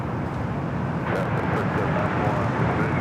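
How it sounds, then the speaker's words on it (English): A Southwest Boeing 737 MAX 8 arriving at LAX from St. Louis on the north side, its jet roar steady and broad, loud and unbroken throughout. "Next arrival here on the north side is Southwest. Flight 3791 coming up from St. Louis. 737 at MAX 8."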